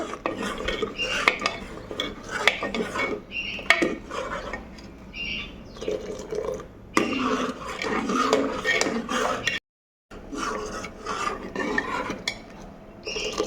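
A spoon stirs and scrapes through lentil dal with turmeric in a metal pot, making repeated clinks and rubbing strokes up close, with a brief dropout partway through.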